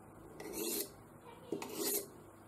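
Two slow rasping strokes of a knife blade along a Buck Edgetek Ultra Flipstik oval diamond sharpening rod, each a gritty scrape of under half a second, close and clear in a quiet room.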